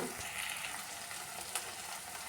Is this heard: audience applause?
no